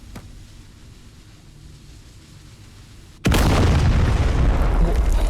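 A thrown bomb explodes in a spider horror video game, a sudden loud blast after a few seconds of low ambient hiss, followed by a sustained roaring rumble.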